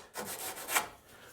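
Imitation shark skin rubbed along the fuzzy edge of a wooden bead and cove molding hand tool, giving a few quick dry rasping strokes, close and fairly quiet, with no talking.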